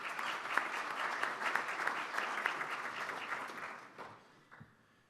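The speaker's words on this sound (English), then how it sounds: "let's give them another round of applause" Sustained applause from a crowd at a Rotaract club meeting, dense and steady for about four seconds before tapering off, with a few claps trailing at the end.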